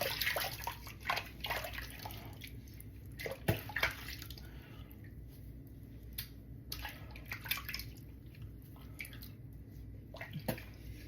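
Water splashed onto the face to rinse off soap lather, a run of irregular wet splashes and drips close up with no one speaking.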